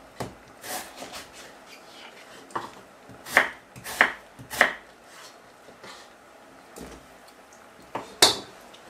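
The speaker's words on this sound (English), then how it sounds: "what we're going to do is cut up this very small" A knife chops potato into small pieces on a cutting board with a few irregular, sharp knocks, some spaced and some in quick pairs, fairly close and with no talking.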